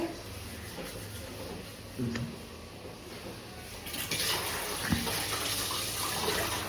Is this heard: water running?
yes